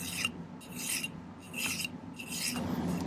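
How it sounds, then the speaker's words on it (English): A hand file rasps against silver metal in steady back-and-forth strokes, about five close, distinct scraping passes with short pauses between them and no talking. "it's going to take a little bit of filing here"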